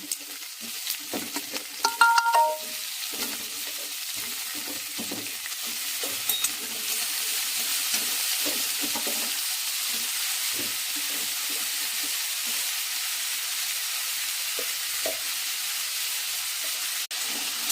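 Potatoes and onions fry in a pan for a potato curry, with a steady sizzle and occasional scraping stirs; a brief clatter early on, otherwise no talk.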